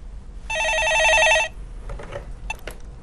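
A telephone rings once on a Korean stock-market call-in radio show, a bright electronic trill lasting about a second, loud and close, followed by faint handling clicks.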